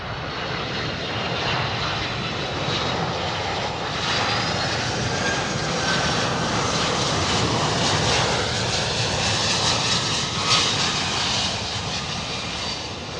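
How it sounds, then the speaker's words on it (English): A Boeing 767 jet taxis past at an airport in Memphis, a loud, steady engine roar with a high whine that holds evenly throughout without anyone talking. "Gonna be a 767. Taxiing past us any moment now"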